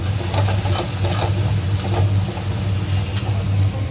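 Spices for a Bengali dish being stir-fried in a pan: close, loud, continuous sizzling with repeated scraping strokes of stirring. No voices.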